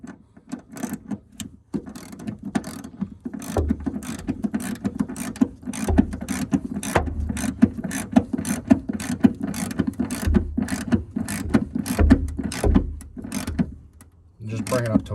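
A ratchet tightening a mounting clamp on a truck tool box, rapid steady clicking strokes repeated close up, with a pause near the start and short bursts of talk between.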